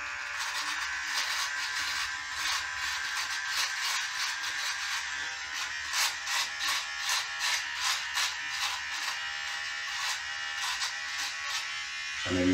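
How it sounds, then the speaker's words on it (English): An electric beard trimmer buzzes steadily close up, its pitch wavering and pulsing rhythmically as it trims whiskers into shape, with no talking. "we'll grab the trimmer while we're dry, and we'll just get this shape back a bit neater"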